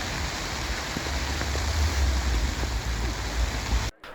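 Steady rain falls on a music festival campsite, a close, constant hiss with scattered drop patters and a low rumble, ending abruptly.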